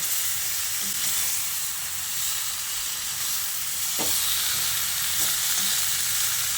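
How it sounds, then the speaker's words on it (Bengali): Fried eggs and potatoes being stirred together in a frying pan for an egg and potato curry, a steady close sizzle with a few soft scraping stir strokes, no talk. "তারপর ডিমগুলোকে দিয়ে আরও একবার সব কিছুকে মিশিয়ে নিচ্ছি।"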